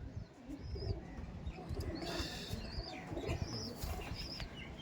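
Punjabi pigeons flap their wings in quick bursts close by, with chirps and soft calls over a busy, continuous background.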